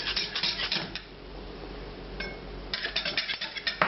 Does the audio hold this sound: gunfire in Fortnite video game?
no